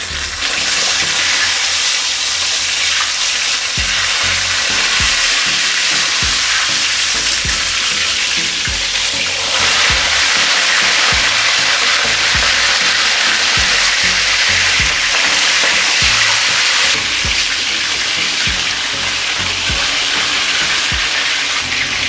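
Fish fries in a hot pan of oil for Jamaican brown stew fish, a loud continuous crackling sizzle close up, with a few clinks and stirring bumps as the pieces are turned, no talk.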